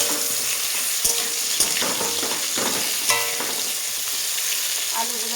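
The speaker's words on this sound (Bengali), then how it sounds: "আলুগুলো ভালোভাবে ভেজে নেব, তারপর তুলে নেব।" Potatoes frying in hot oil in a wok, a continuous close sizzle broken by clattering stirs every second or so, with no voices.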